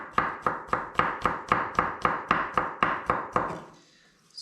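A knife chops ingredients finely for tzatziki in steady, rapid strokes, about fourteen crisp board knocks in a regular rhythm, close and fairly loud, then stopping near the end with no talk.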